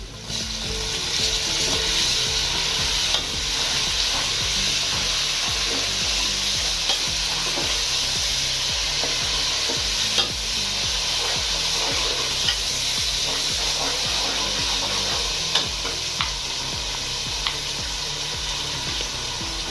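A steady loud sizzle of garlic-ginger paste frying with browned onions in a pan, with occasional stirring scrapes and pops, continuous throughout.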